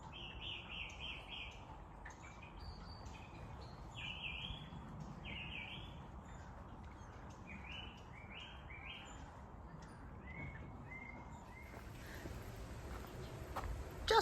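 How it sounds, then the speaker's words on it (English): A song thrush sings outdoors in repeated short phrases, clear and moderately close above a steady background hiss of wind or distant traffic, with no talking. "The sound of a song thrush."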